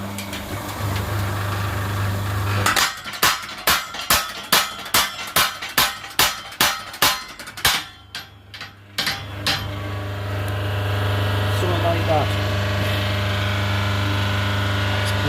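A repaired blacksmith's power hammer cycles up and down in a run of about fifteen evenly spaced, loud metallic clangs. A steady motor hum runs under the clangs and continues after they stop.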